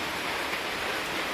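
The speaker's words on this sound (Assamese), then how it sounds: "এয়া বৰষুণ দি আছে" Rain falls steadily at night, a dense, even hiss of drops on surfaces that stays constant and fairly loud with no other sounds.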